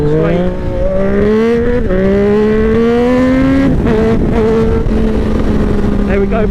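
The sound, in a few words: Triumph 765RS motorcycle with SC Project exhaust accelerating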